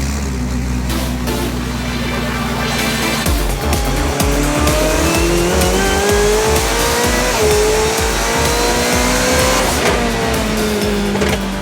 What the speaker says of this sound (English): I love the sound of the Ferrari engine, and it works well.